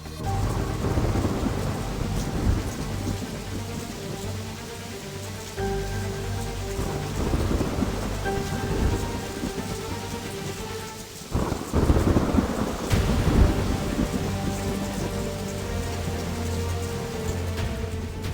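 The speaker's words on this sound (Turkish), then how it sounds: "Bir anda aşırı yağmur bastırdı ve barakamız sağdan soldan üstten alttan su almaya başladı." Heavy sudden rain pours steadily onto a makeshift shelter's surfaces in a dense, loud hiss, with thunder rumbling and a sharp crack partway through.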